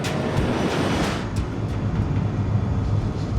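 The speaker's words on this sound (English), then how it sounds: "The DC-8 accelerates to takeoff speed." A DC-8 airliner's engines roar steadily as it accelerates down the runway for takeoff, a dense, continuous rumble heard from inside without talk.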